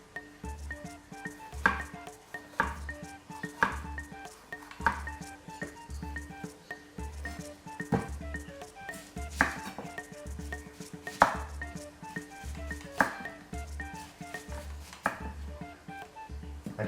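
A sharp kitchen knife slices through soft kebab ingredients on a cutting board, striking the board in repeated, fairly regular taps about once a second, close up and clear with no talking.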